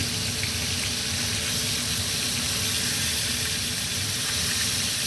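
Beef short ribs searing in a hot pot on the stovetop, a steady, even sizzle and hiss that stays loud and unbroken throughout, with no talking.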